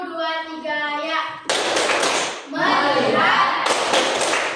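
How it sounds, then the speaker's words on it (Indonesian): In a tepuk fokus clapping game, a group of voices chants in rhythm, then breaks into two bursts of loud, dense hand clapping with a pause between. "Ice breakingnya ialah tepuk fokus."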